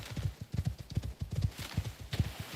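Horse hooves clip-clopping in the video game Icarus, a steady rapid gallop rhythm of repeated thuds, close and loud, running without pause.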